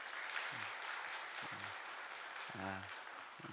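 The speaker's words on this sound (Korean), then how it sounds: "다시 한번 박수 한번 하겠습니다" Church congregation applauding, a steady broadband wash of clapping throughout with a few low voiced sounds and brief speech fragments underneath.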